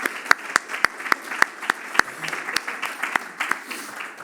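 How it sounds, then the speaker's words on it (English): A small audience claps for the day's conference speakers, with sparse, distinct individual claps spaced unevenly across a few seconds, fairly close and moderate in loudness, with no voices. "So, just another round of applause for all of our speakers today."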